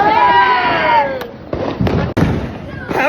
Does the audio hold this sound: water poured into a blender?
no